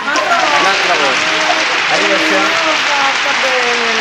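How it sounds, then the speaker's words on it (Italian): A family gathering applauds aunt Maria on her 94th birthday, steady loud clapping throughout while voices and chatter carry over it. "Mamma, un applauso."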